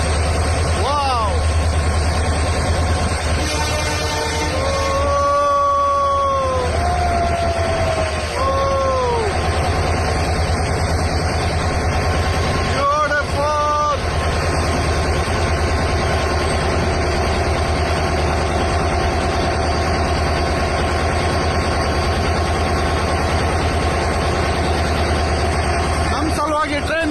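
Diesel train locomotive idling while stopped near Dudhsagar falls, a loud steady low rumble heard up close from on the engine, with people talking over it and a few brief tonal whines.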